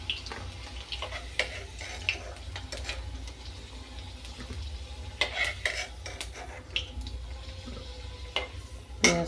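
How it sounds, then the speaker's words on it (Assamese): Onion frying with potatoes in a pan, with a quiet steady sizzle and scattered clicks and scrapes of stirring, close and soft, with no talk. "এতিয়া ইয়াত পিঁয়াজটো দি দিম।"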